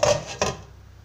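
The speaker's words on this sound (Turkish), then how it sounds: "Pancarları böyle tutarak büyük bir tepsinin içinde bıçak yardımıyla doğruyorum." Knife chopping beets inside a large tray in a home kitchen, two close, crisp cutting strokes a fraction of a second apart with a faint scraping tail.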